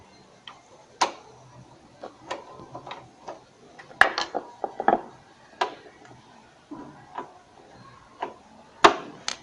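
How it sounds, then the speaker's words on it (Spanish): Screws being loosened and removed from the case of an Acer AX3950 desktop computer, a run of sharp metallic ticks and clicks with a few louder clacks, close and alone without talk. "soltar los tornillos y soltamos el otro tornillo"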